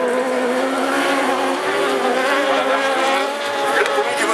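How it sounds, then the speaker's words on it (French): Autocross super buggy with a Volvo engine racing downhill at St Georges in 2014, a loud, continuous high-revving engine roar with slight pitch shifts across the whole stretch. "Le premier du moteur Volvo dans la descente."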